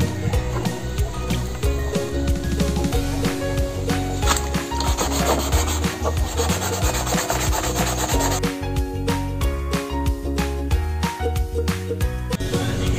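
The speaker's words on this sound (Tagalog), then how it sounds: "gamitan naman po natin ng 320 na liha" Hand sanding of a cracked motorcycle fairing under repair with 320-grit sandpaper, a steady close scratchy rubbing in repeated back-and-forth strokes that continue for the whole stretch.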